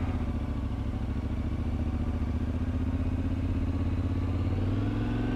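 A Yamaha Tenere 700 motorcycle engine drones steadily up close, building in pitch and load as the bike accelerates, with a constant loud mid-range rumble and no voices.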